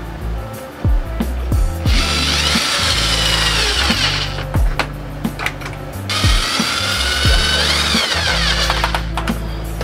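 Ratcheting screwdriver driving screws into a steering wheel stand for a Logitech G27, two long bursts of rapid clicking ratchet strokes with handling knocks between, close and loud, no talk.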